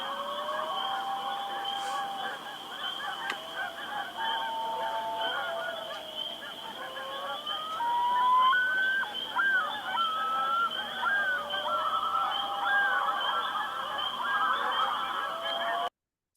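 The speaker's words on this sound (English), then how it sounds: "So these are common loons, some spring peeper frogs, and Canada geese." Common loons, spring peeper frogs and Canada geese at a lake in Maine: repeated goose honks ring out over a dense, steady chorus of peepers, with gliding loon calls rising in the middle and growing louder toward the end.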